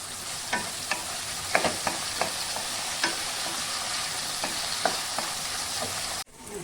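Onions and tomatoes sauté in a pan for Chettinad puli kari, a dense close sizzle with regular spatula scrapes and taps every half second or so, cutting off abruptly near the end; no talking.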